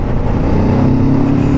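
Kawasaki Z650RS motorcycle accelerating on the road, its engine droning loud and close with a steady, rising pull and wind rush, no talk.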